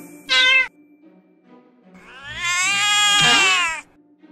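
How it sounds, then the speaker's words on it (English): A cartoon cat lets out a short sharp meow, then after a pause a long, loud, rising caterwaul that wails for over a second before cutting off. "Stay away from me, you crazy cat!"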